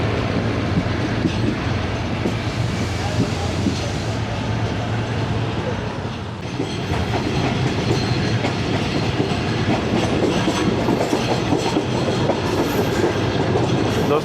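The 38DN Fareed Express rolling along rails through countryside between Walton and Kasur, a loud continuous rumble with rhythmic clickety-clack of wheels and carriage rattle heard from inside the moving train.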